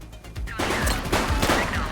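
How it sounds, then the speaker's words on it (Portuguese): Rapid gunfire crackles through a police shootout after a bank robbery downtown in The Precinct, a quieter opening giving way to dense, overlapping shots and bursts amid loud chaotic game sound. "We're downtown where police are engaged in a fierce shootout following yet another bank robbery."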